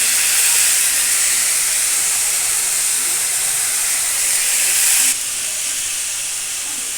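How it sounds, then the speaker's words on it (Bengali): Cabbage hisses and sizzles loudly and steadily in a hot pan with a fish head, a broad continuous frying hiss that drops slightly in level partway through. "বাঁধাকপিগুলো দিয়ে দেবো।"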